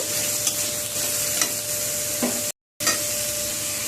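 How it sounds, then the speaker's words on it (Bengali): Chopped beans and beetroot are stirred in a frying pan, with scraping spatula strokes over a steady close sizzle and a brief break partway through. "এরপর দিয়ে দিলাম বিট। সব কিছুকে নেড়ে নেব।"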